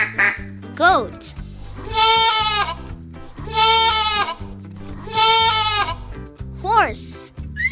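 Three long, wavering goat bleats, each trembling and nasal, come one after another over soft background music, with a voice speaking briefly before and after.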